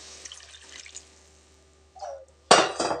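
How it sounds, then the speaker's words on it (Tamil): Water poured from a container into a pot of peas set to boil, a short bright gush that starts abruptly near the end after a few faint drips and clinks. "இப்போ பட்டாணி வேகிறதுக்கு கொஞ்சம் தண்ணி விட்டுக்கலாங்க."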